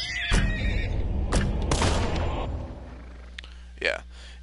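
A horse gives a short, sharp whinny near the end of a stretch of video game action, after several dull impact bursts, with background voices.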